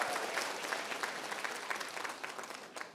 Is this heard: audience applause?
yes